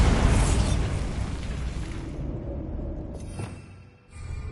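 A loud Bombarda spell blast in Hogwarts Legacy, a broad booming burst that decays over a couple of seconds, followed by a fainter magical shimmer and a second low thump.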